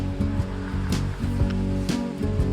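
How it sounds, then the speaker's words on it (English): A high, muddy river swollen by four inches of overnight rain rushes steadily and fairly loudly nearby, a continuous wash of water with a low humming undertone. "So this old muddy river looks pretty high today."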